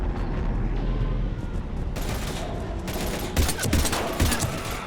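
Rapid automatic gunfire rattles in a firefight from Mass Effect 3 Legendary Edition, with dense bursts of shots that grow sharper and louder toward the end, layered over a steady background rumble, and no talk.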